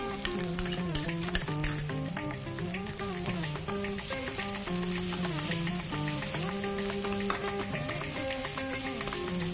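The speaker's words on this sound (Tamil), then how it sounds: "இன்னும் கொஞ்சம் வதங்கிடுச்சுன்னா தக்காளி பழம் போட்டுக்கலாம்." Tomatoes sauté in a hot pan in a Tamil home kitchen, making a faint, continuous crackling sizzle with a brief utensil clink near the start, partly masked by steady background music.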